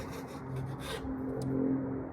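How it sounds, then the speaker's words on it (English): A file rasps against the tip of a flathead screwdriver to thin it, a short, faint scraping of a few strokes over a low background hum. "The flathead's a little bit too thick to go into that screw, so I'm gonna trim it down just a little bit."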